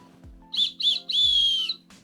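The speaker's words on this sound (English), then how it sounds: "It's got a whistle, so if you go missing or you lose your friends when you're trekking, you can blow your whistle" A safety whistle built into a hiking backpack strap is blown in three shrill blasts: two short toots, then a longer held one, loud and close.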